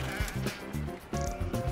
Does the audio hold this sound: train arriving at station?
no